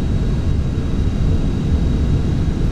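An airplane engine in a flight video game drones steadily and loudly with a low rumble, continuous and alone, no talking.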